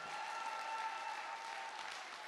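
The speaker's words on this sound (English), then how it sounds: "please give all of our award recipients tonight another big round of applause" Steady, dense applause from an audience at an arts awards ceremony honoring award recipients, a continuous even wash of many hands clapping throughout with no voices standing out.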